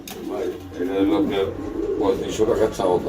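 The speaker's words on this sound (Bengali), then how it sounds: "এই যে নটটা ডাকতেছে বন্ধুরা ডানে রয়েছে আর বামেরটা হচ্ছে মাদি কবুতর" A male pigeon at a pigeon sale coos in low, repeated rolling calls, close by, while someone talks over it throughout.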